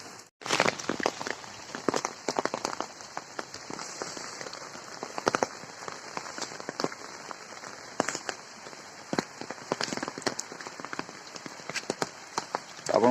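Steady rain pattering on a surface, dense broadband hiss with scattered sharper drop impacts, continuous and fairly close throughout with no voices.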